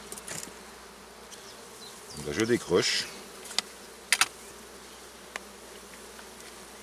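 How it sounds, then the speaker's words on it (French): Honeybees buzz around an open Layens hive, a faint, steady hum that swells briefly as a person speaks a few words close by, followed by a few sharp knocks. "Vous voyez, ça dégueule d'abeilles ça."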